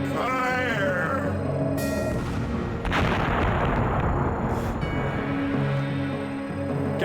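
Ship cannons fire in the pirate video game Redjack, a loud broad blast erupting about three seconds in and rumbling on over game music and effects.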